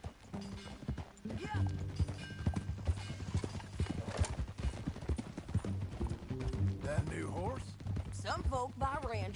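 Horse hooves clip-clopping at a steady trotting rhythm in the video game Red Dead Redemption 2, close and continuous under a bed of music, with a brief whinny and characters talking over it.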